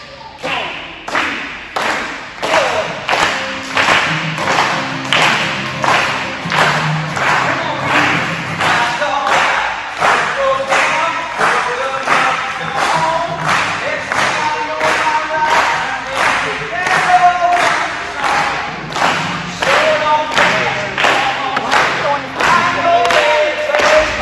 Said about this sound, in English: we want to put some hands together